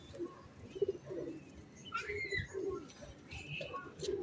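A young Saharanpuri pigeon chick, a cross with a teddy breed, gives soft repeated cheeps and coos close by, with a few brighter chirps and some faint background noise.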